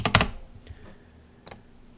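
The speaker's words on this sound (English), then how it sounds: "I usually just type in partition." Quick keystrokes on a computer keyboard while entering a search term, a short cluster of crisp clicks at the start followed by a faint tap and a final pair of clicks, close and alone.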